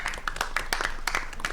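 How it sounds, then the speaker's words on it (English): Scattered applause from a small audience at a school district bond oversight committee meeting, quick overlapping claps at moderate-to-low volume for about a second and a half, with no talking over it. "Can you guys give a round of applause?"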